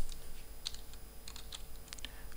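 Keys clatter on a computer keyboard in a short, light burst of typing, close but quiet over a low background hum.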